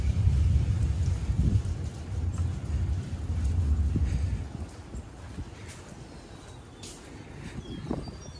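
Rain pours steadily on a bison ranch during a storm, with deep rolling thunder rumbling through the first half and fading, and a few louder thuds and splashes near the end.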